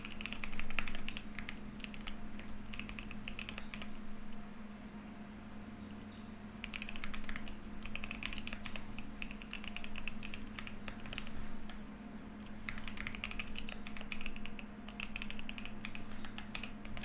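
Steady typing on a computer keyboard at a desk, dense clusters of clacking keystrokes in bursts with short pauses, close and moderately loud over a constant low machine hum, no talking.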